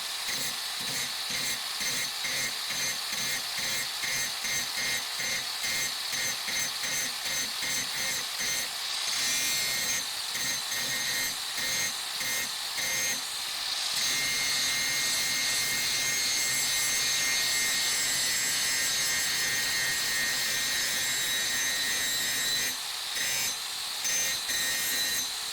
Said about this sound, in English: But let's do some more grinding, because it's a grinder.